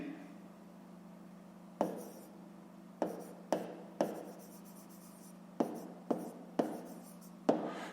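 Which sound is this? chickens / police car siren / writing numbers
writing numbers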